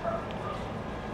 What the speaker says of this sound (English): My dogs are gonna bark now because they're crazy.